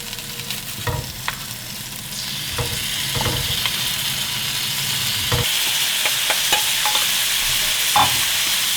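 Eggplant slices pan-fry in a skillet with a rising hiss of sizzling, punctuated by several sharp knocks and scrapes as the pieces are flipped over.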